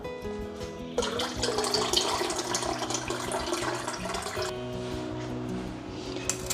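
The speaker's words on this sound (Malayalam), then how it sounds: "നമുക്കിതിലേക്ക് കുറച്ചുകൂടി വെള്ളം ചേർത്ത് കൊടുക്കാം" Water pouring steadily into a buttermilk mixture made with gooseberry, a continuous close splashing rush lasting several seconds before easing into a lighter trickle, with no voices.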